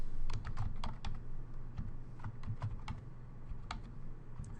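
Fingers tap on a computer keyboard in quick, uneven clusters of keystrokes, soft and close over a low background hum.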